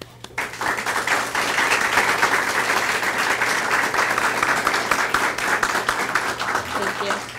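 Audience applause after a lecture introduction, steady dense clapping that starts abruptly and holds at an even level for several seconds, fairly close and filling the room, with no talk over it.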